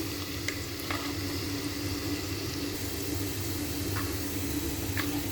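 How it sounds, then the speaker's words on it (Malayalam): Garlic and ginger fry in oil for a Kerala fish curry, a steady close sizzle that stays even throughout, with no voices. "എണ്ണയിൽ കിടന്ന് വെളുത്തുള്ളിയും ഇഞ്ചിയും കൂടെ നല്ല കണക്ക് മൂത്ത് കഴിയുമ്പോൾ"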